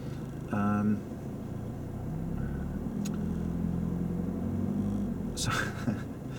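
Idling car engine during a driving lesson before reversing, a steady low rumble throughout with a brief rise as the gas is set, under conversation between instructor and learner.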